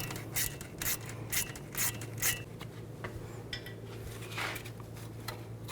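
Metallic clicks and clinks in a short series, close by over a low steady hum, as a bolt comes off a bracket near the upper control arm ball joint of a 1999-2007 Chevy Silverado 2500 with a 10mm socket ratchet.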